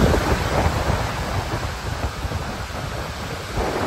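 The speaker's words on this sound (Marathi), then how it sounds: "वाऱ्याचा आवाज बघा किती येतो" Loud, steady roar of strong wind at sea during a sudden Arabian Sea storm, a broad rumbling rush with gusty swells and no voices.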